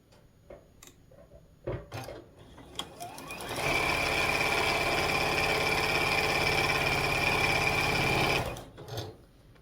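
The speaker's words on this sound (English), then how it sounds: "I'm just going to take them 2 at a time and sew them together." A sewing machine sewing quilt blocks runs steadily for several seconds with a loud, even mechanical whir, preceded and followed by faint clicks and handling sounds.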